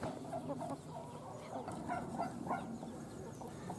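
Light Sussex chicks and turkey poults in a pen give soft, repeated peeping and clucking calls, scattered across the moment at moderate distance over steady background noise.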